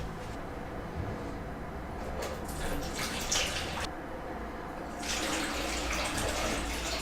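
Fruit vinegar shrub poured through a fine strainer, a steady, close trickle and splash of liquid that runs continuously, swelling slightly in places.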